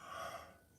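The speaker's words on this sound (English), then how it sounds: "Now I'm going to yawn." A short breathy yawn, a soft open exhale swelling then fading within a second, faint and close.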